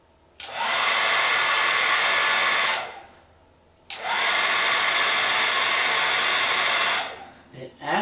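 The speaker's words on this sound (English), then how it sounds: "We're going to turn it on high heat, fastest setting, just to see how it affects the waveform." A hair dryer on high heat at its fastest setting, powered by a Jackery HomePower 3600 Plus battery station, roars loudly in two long bursts of about two and a half and three seconds separated by a short pause.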